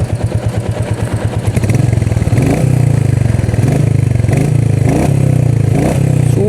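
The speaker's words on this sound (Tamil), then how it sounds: "பைக்கோட சவுண்டு வந்து கேட்டுடலாம்." A Royal Enfield Meteor 350 motorcycle engine thumps close and loud, first as a slow single-cylinder idle, then rising to a steady faster beat with small revs, and no talk.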